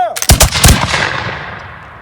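A loud volley of musket-style gunfire in a firing demonstration, several near-simultaneous close cracks merging into one blast that rolls off into a fading echo.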